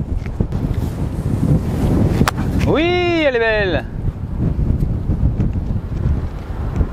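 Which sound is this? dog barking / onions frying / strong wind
strong wind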